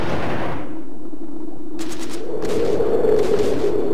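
Gunfire in the real-time strategy game Z Steel Soldiers: a short burst of rapid automatic shots over a steady low rumble, repeating a moment later as several clustered rattles.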